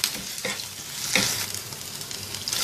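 Garlic-ginger paste sizzles in a pan while a spoon stirs it in a few scraping strokes, with one louder scrape near the middle, for a mutton liver dish; a steady close frying hiss continues underneath and no one speaks.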